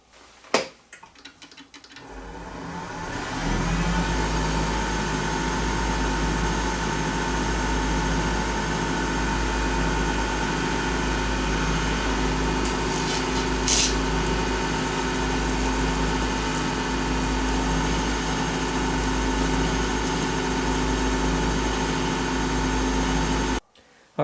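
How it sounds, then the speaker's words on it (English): A custom cast watch-part finial is lightly sanded and polished on a motorized tool that runs as a steady, continuous whir for most of the stretch after a few brief knocks at the start, alone with no talking. "Now I'm going to lightly sand that. I'm going to polish it up"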